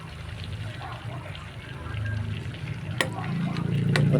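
Tinola, a soup of native chicken and native papaya, simmering in a pot while being stirred, with a continuous bubbling sizzle that grows louder, two sharp utensil knocks against the pot, and faint background speech.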